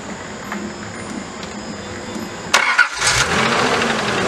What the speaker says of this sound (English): we're going to go ahead and crank this thing up, which hasn't been cranked up in a good long while